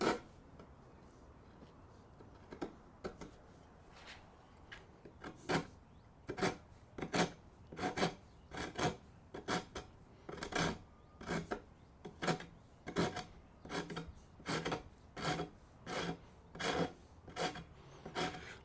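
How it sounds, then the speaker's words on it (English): Coarse rasp filing a rounded wooden workbench leg, a steady series of rhythmic scraping strokes, sparse and uneven at first, then regular and close, with no talking. "Now we get the rasp to get this rounded part."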